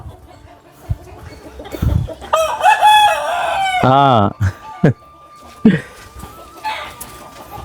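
Chickens cluck and a rooster crows loudly nearby, with several bursts of bird calls over a quiet outdoor background.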